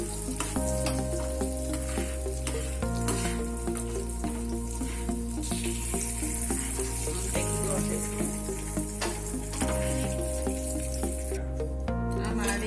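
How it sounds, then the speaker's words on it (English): Roughly chopped seeds fry in hot ghee in a pan, a steady sizzle running underneath prominent background music throughout. "Now our ghee is hot. I am adding our roughly chopped care bija. We will fry this for just for 1 or 2 minutes."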